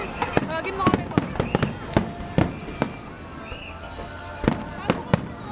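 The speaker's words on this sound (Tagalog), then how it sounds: "Sige, yung fireworks yan." Fireworks crack and pop in scattered sharp bursts, some close and some farther off, with voices talking between the blasts.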